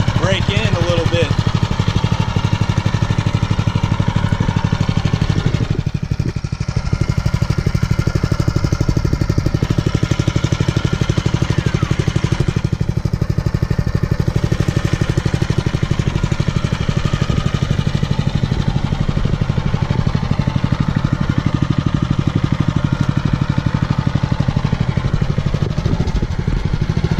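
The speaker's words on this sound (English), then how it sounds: "we've had this thing idling for just about 5 minutes now" A Mega Moto 212cc minibike engine idles at break-in, a loud, steady low chugging drone that runs without letup for the whole stretch, with a voice talking over it.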